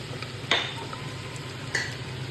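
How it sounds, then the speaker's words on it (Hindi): Chopped onions go into hot oil already seasoned with garlic, green chilli, cumin and whole spices, giving a steady close sizzle with two sharp clatters from a stirring spoon against the pan. "अब हम इसमें प्याज डालेंगे।"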